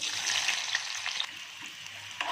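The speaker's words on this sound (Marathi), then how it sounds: "आता आपण फोडणीला देऊ तेल टाकले मी कढईमध्ये एक कांदा मी उभा चिरून घेतलं" Sliced onion frying in oil in a kadhai, giving a steady, close hiss of sizzling with a few brief stirring scrapes, alone without any talk.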